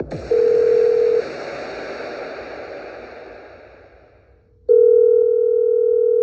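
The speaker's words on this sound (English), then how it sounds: "It's another Jubal phone prank" Telephone call tones on a radio show phone prank: a steady dial tone, a brief gap and a falling noisy line, then a louder sustained ringback-style tone, all with no talking.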